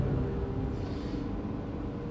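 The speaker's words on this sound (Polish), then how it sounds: "Ten dźwięk, który słyszycie, to jest dźwięk rozsuwania się hangaru, tych drzwi hangaru." Hangar doors sliding open in the video game Star Citizen, a low steady mechanical rumble heard on its own for about two seconds.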